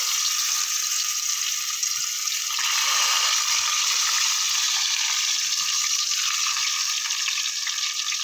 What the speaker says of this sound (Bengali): এখানে বেগুন এই কুমড়ো ভাজিটা করছি